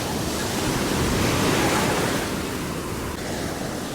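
Sea waves wash onto Fujairah beach as a loud, continuous broadband rush that swells and eases slightly, with no voices.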